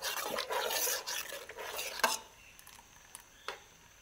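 Melting butter stirred in a pot to make ghee: a close, continuous scraping swirl for about two seconds, then a quieter gentle bubbling with a couple of light clinks.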